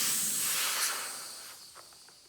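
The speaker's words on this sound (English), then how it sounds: "That'll just get all the air out right away." Air rushing out of a dirt bike inner tube valve in a steady, close hiss that slowly fades as the tube empties.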